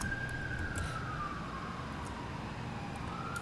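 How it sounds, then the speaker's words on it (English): Emergency siren wailing outdoors at a distance, a faint sweeping tone passing by over a low background hum, heard alone. "there's sirens"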